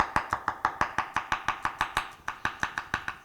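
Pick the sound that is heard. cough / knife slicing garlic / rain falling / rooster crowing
knife slicing garlic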